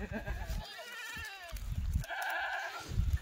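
Kathewadi goats bleat repeatedly at close range, several overlapping wavering calls rising and falling through the clip with farmyard background noise.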